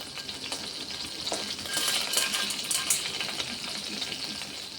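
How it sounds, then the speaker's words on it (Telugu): A tempering of mustard seeds, cumin, chana dal and urad dal frying in a pan, heard as a steady bright sizzle with crackling pops rising midway, close up and without speech. "ఇప్పుడైతే ఒక బాండి పెట్టేసుకొని ఆవాలు జీలకర్ర పచ్చిపప్పు మినప్పప్పు కరివేపాకు అయితే లేదనమాట నా దగ్గర తాలింపు అయితే వేసేసుకుంటున్నాను"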